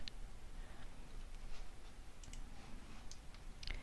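A computer mouse clicks a button in data-entry software, a few faint, sharp clicks against a steady low hum of room noise.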